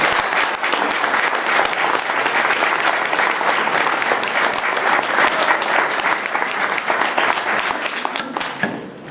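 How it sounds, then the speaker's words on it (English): A room full of people gives the candidates a sustained round of applause, dense steady clapping lasting several seconds before tapering off at the end. "I would like to give them a round of applause now and thank them for their service."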